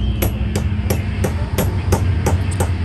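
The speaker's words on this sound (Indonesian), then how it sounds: "Kalau keras kalian getok aja pakai selongsongan." A new gear being tapped into a Mollar 13mm electric drill with a metal sleeve, nine sharp, evenly spaced hammer knocks sounding close against a steady low background hum.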